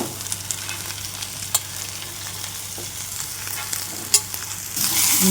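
Sprouted moong beans fry in a pan with ginger-garlic paste while being turned back and forth, making a steady close sizzle broken by soft scraping stirs and occasional sharper clicks of the utensil, with no talk.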